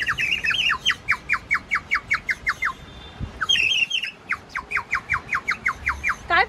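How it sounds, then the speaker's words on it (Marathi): A water-filled bird whistle toy at an exhibition in Thane, blown in rapid, regular warbling chirps, with two trilling runs separated by a short pause, loud and close against a quiet background. "ह्याच्यात पाणी घालायचं आणि ह्याचे वेगवेगळे आवाज निघतात पक्ष्यांचे."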